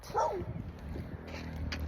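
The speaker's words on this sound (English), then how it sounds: "There's another little doggo." A small dog barks and whimpers briefly outdoors, one short yip near the start followed by softer sounds over steady background noise.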